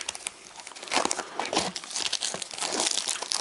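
Scissors cut open the plastic wrapping on a Pokemon Hail Blizzard booster box, giving close, irregular crinkling and tearing of plastic film with no talking.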